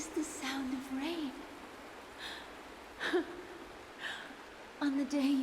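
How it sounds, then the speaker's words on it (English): Rain falling in the Honkai Star Rail video game, a soft, steady hiss that sits beneath several bursts of speech throughout. "This is the sound of rain."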